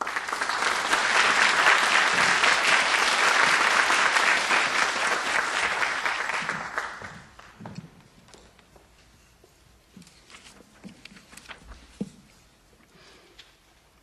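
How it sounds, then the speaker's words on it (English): A faculty meeting audience bursts into loud, dense applause that holds steady for several seconds, then tapers off into scattered claps and small room noises. "please give them a round of applause"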